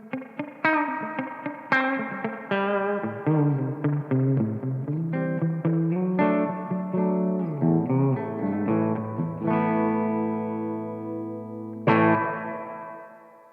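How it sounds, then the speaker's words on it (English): Electric guitar notes and chords through the spring reverb of an MG50CFX amp ring out with a splashy, drippy reverb tail that lingers after each strum, fading out at the end. "switch over to the spring reverb now so you can hear the difference"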